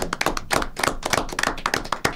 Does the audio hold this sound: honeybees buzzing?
no